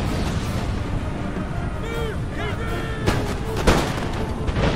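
Cannon and musket volleys crack and boom at close range in a Napoleonic-era battle in Empire: Total War, with sharp reports over a dense, continuous din, and a voice talks throughout.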